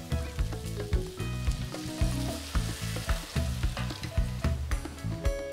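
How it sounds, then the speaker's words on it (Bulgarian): Pepper and parsley fry and sizzle in a pan while being stirred vigorously, with steady loud sizzling broken by rhythmic scraping strokes of the spoon against the pan. "Сега обърквам добре, енергично, да не загори пипера."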